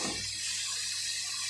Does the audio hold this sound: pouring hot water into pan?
yes